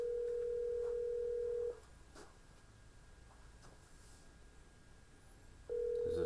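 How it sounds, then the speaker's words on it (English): A cell phone rings in an office with a Toshiba cloud-hosted phone system, one steady tone near the start, a quiet gap, then the ring returns at the end. "That's my cell phone."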